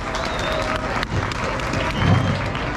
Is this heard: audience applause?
yes